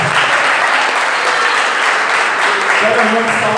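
Church congregation clapping for Jesus during a worship service, loud and close, a thick continuous roar of hands with voices faintly mixed in underneath.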